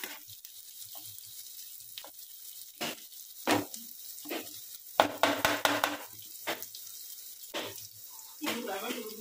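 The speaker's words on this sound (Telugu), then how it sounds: "బాగా లైట్ బ్రౌన్ షేడ్ వచ్చినంత వరకు మీరు మంచిగా ఫ్రై చేసుకోవాలి." A curry base fries in a pan until light brown, giving a soft sizzle under a series of sharp scraping and clacking stirring strokes, some in quick clusters.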